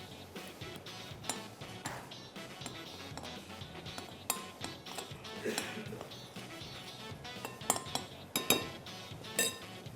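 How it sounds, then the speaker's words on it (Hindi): A spoon clinks and scrapes against a metal pan while stirring coriander powder and spices being roasted for a desi fish curry, with scattered light metallic taps and a few sharper clinks over a soft background. "ये बस हल्का सा इसको स्टर करेंगे यहाँ पर।"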